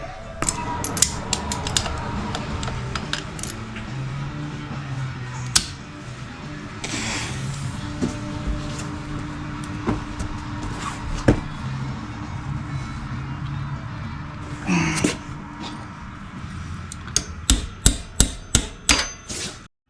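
Metal tools working on a 1999 Honda XR250R motorcycle, as vice grips grab and loosen a rounded sump plug: scattered metallic clinks and scrapes, a steady low hum underneath, and a rapid run of sharp taps near the end.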